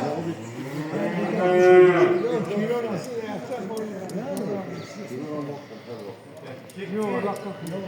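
Cattle mooing loudly nearby at a livestock market, several long harmonic calls overlapping, with people talking throughout in a busy outdoor setting.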